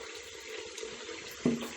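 Water running from a tap into a sink for a shampoo bath for prosthetic hair pieces, a steady soft rush with a brief louder splash near the end.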